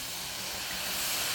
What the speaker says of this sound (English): So now we're going to deglaze about 2 cups of wine.